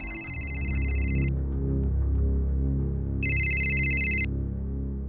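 A telephone rings in two separate bursts, first at the start and again about two seconds later, each lasting around a second, clear and fairly loud over a steady low background drone in a crime drama scene.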